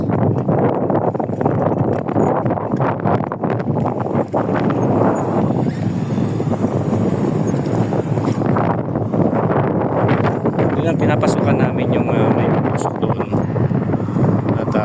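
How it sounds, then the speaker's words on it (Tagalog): Strong desert wind buffets the microphone with a steady, loud broadband roar that lasts throughout, while someone talks over it. "Ang lakas ng hangin guys"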